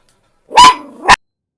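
A house dog gives a single loud, close bark that stretches into a short growly bark, reacting to someone coming in through the front door.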